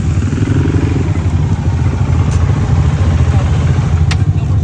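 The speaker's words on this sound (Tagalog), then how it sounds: "Dirt bike" A dirt bike engine runs loud and close, a steady throbbing drone that stays constant throughout, with no voices.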